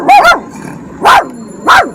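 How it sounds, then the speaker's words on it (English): A dog barks three times, loud and close, with a double bark first and then two single barks spaced apart. "Don't bark, don't bark."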